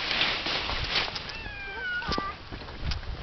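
A cat meows with a few rising and falling tonal calls in the middle, fairly close, against a steady background hiss and no voices.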